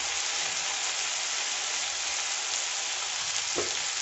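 Tomatoes frying in oil in a pan for a fish curry while being stirred, a loud, continuous, close sizzle with one brief scrape, and no talking.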